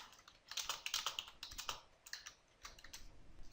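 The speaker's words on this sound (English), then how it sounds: "I click on the box and I can type in my text." Quick, uneven clatter of fingers typing text on a keyboard, soft and close with short pauses between bursts of keystrokes.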